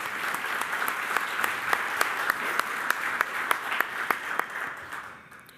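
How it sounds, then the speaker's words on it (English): A crowd applauds with a dense, steady patter of clapping that carries on for several seconds, then fades out. "A round of applause, please."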